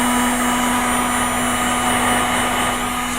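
Heat gun blowing hot air to dry paint on a Pegasus Hobbies War of the Worlds model kit, a steady loud whirring blower drone with a constant hum, running alone without pause.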